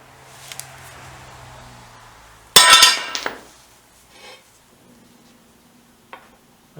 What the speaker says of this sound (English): I don't know if this is really a heavy enough hammer.